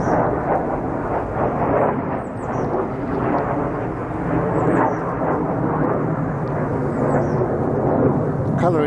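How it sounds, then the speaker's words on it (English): A low, steady broadband roar of an aeroplane passing overhead fills the whole stretch, continuous and fairly loud, with faint outdoor background and no clear speech. "Piss off aeroplane or whatever you are."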